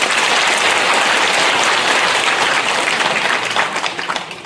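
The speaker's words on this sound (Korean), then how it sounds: "뜨거운 박수를 부탁하겠습니다." Loud, dense applause from a large crowd at an outdoor political rally, a sustained roar of many hands clapping that holds steady throughout.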